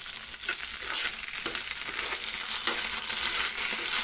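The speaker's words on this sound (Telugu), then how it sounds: "నేను పచ్చిమిరకాయలు వేస్తున్నానండి ఒకసారి కలుపుకుందాం" Green chillies frying with urad dal, coriander seeds and cumin in oil, making a loud, bright, continuous sizzle close up, with faint scraping stirs underneath and no talking.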